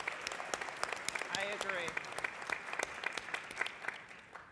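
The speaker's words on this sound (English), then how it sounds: "I'd like to give you a round of applause." An audience at a conference plenary session applauds steadily, with dense clapping throughout and a brief spoken voice partway through.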